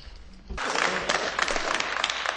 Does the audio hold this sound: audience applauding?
yes